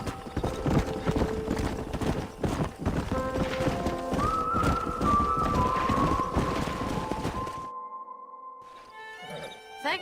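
A stallion in the Red Dead Redemption video game clip-clops in a rapid galloping rhythm, close and loud, with a whinny partway through. The hoofbeats stop abruptly, leaving a quieter sustained tone.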